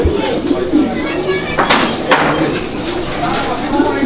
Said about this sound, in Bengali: এই দেখেন কবুতরের ডাক দেখেন